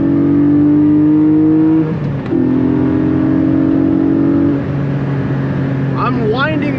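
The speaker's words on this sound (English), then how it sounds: "That's full throttle, by the way." A Porsche 718 Spyder engine pulls hard at full throttle on a back road, a loud rising howl that drops in pitch with each gear change, heard from inside the car with someone talking over it.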